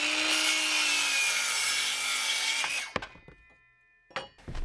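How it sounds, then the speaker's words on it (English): A circular saw cuts wooden boards while framing a shop wall, its steady loud whine running for about three seconds before stopping, followed by a few sharp clunks and clatters of wood being handled. "I like to use my speed square as a guide so that I can keep my circular saw"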